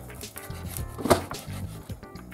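A knife cuts through a slab of pork fat with skin, giving a soft thudding chop with one sharper knock on the board midway, set against a busy kitchen background of low hum and rustling.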